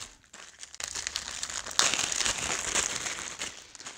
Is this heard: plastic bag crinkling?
yes